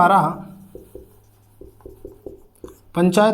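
Marker or chalk strokes on a board during a Hindi lesson on panchayat taxation powers, a series of short, light scratches between pauses, with a voice speaking before and after.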